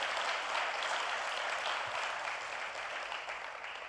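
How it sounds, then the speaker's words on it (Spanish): A church congregation claps together in a steady, even wash of applause, fairly distant and uniform, slowly fading slightly toward the end. "Dele un aplauso al Señor."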